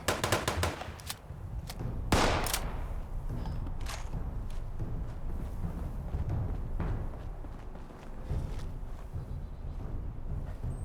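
Shotgun fire in the video game Fallout 76, a few loud, close blasts at the start followed by quieter scattered shots and clatter over a steady background din of play.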